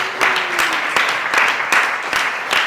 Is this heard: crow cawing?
no